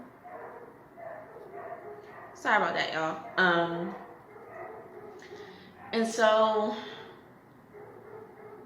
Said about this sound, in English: Uh-oh, what those dogs doing?